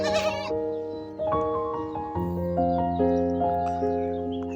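A goat bleats repeatedly at close range, with long wavering nasal calls overlapping one another and no voices in between.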